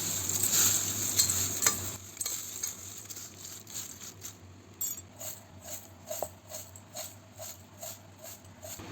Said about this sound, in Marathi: ते सगळं आपण मिक्स करून घेऊ।